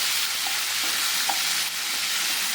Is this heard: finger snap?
no